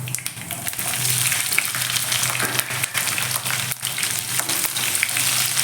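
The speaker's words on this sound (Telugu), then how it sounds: "ఎండుమిర్చి, కరివేపాకు వేద్దాం" Dried red chillies and curry leaves sizzle and crackle in hot oil, a dense, close, steady frying hiss with occasional pops and no talk.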